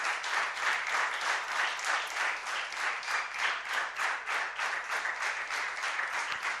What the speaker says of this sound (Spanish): ¿cuánta de esa gente hay aquí que le da un aplauso al Señor?